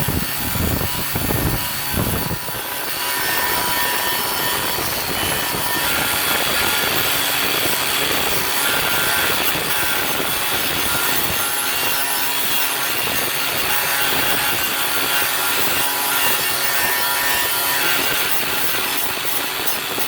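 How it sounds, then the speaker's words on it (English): An angle grinder works steadily on metal while an old Sencore ES-102 test instrument is prepped for repainting, giving a loud, continuous abrasive whine with rough scraping texture. It starts with a few short bursts, then runs without a break. "Whenever using an angle grinder like this or an unprotected tool"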